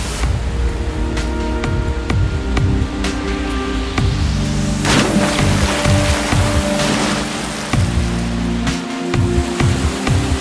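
Gushing river rapids, a steady loud roar of rushing water with broadband hiss that swells midway, continuous and close, with no voices.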